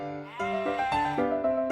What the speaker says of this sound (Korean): 옛날 옛적에 오래된 염소가 있었습니다